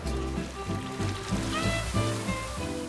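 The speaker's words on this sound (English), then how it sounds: "Getting to turn on huge fountains. I can hear the water." Huge fountains in a French garden pour water in a steady, full rush close by, a continuous splashing wash with rhythmic surges, no one speaking.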